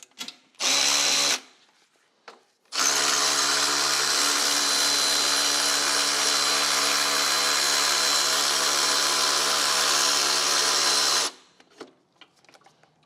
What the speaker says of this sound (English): Loosen this 12 millimeter.